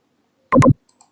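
A computer mouse clicking, two quick sharp clicks close together, loud and near, then a couple of faint tiny ticks in an otherwise silent room.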